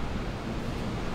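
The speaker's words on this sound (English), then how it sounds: "the water is moving pretty fast" Fast-moving brown water in a river at Hilo, Hawaii, rushes with a continuous, loud, close broadband roar and no voices.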